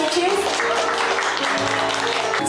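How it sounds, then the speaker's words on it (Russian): Wedding guests applaud at a wedding celebration in Veliky Novgorod: a dense, steady wash of clapping from a crowd, loud and sustained for a few seconds with a busy room behind it. "эти бурные аплодисменты звучат в вашу"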